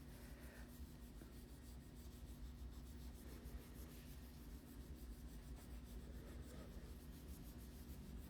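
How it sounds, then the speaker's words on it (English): A gloved fingertip rubs orangey red chrome powder onto a gel nail, giving a steady, soft, close scratchy rubbing with no pauses and no voices. "I'm just giving that a really good rub and take off any of the excess."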